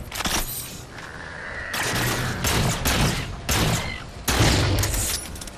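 Gunfire from a sniper rifle in the shooter game Halo 4, with several loud, sharp shots and booms spread across the stretch amid ongoing game noise.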